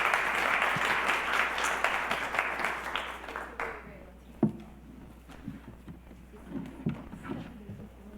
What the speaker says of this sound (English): I think they do deserve a round of applause again